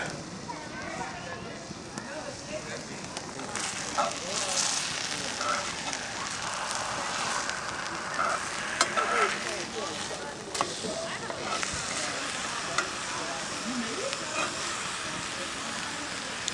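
Steady crackling sizzle of meat cooking over a fire, continuous and close, with soft background voices.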